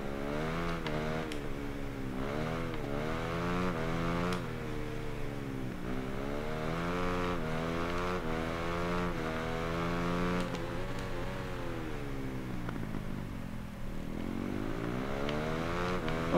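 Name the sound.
Motorcycle engine revving in the video game Ride 3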